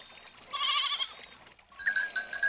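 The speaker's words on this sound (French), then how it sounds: "tu parles d'un troupeau de chèvres?" Goats in a mountain herd bleat in two separate calls, one after the other, fairly close and clear with no talking over them.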